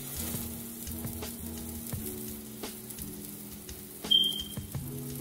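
Bread stuffed with spinach and egg fries in a pan, giving a soft, steady sizzle with light crackles, close by, under faint background music.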